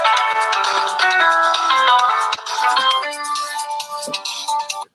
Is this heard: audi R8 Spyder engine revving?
no